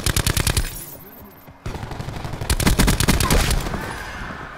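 Rapid automatic gunfire from the video game Call of Duty Black Ops 4 rattles in loud bursts, breaks off briefly, then resumes in a dense, continuous volley.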